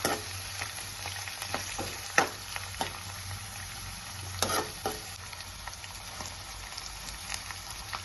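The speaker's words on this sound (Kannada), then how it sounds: "ಆನಿಯನ್ ಹಾಕಿದ ನಂತರ ಕರಿಬೇವಿನ ಎಲೆಗಳನ್ನು ಹಾಕಿ ಫ್ರೈ ಮಾಡ್ಕೊಳ್ಳಿ." Onion and curry leaves fry in a pan for a South Indian vegetable upma, giving a steady, close sizzle with occasional louder crackles and stirring scrapes, and no voices.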